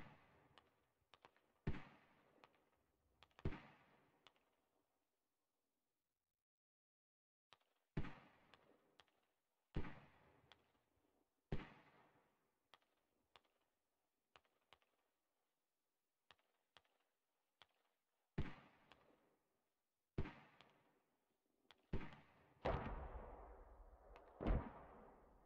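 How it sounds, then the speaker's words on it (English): Mortar rounds in the video game Squad hit as heavy, sharp booms, spaced irregularly and each ringing out with a short decaying tail, ending in a quicker cluster of blasts near the end. "Nine mortars out."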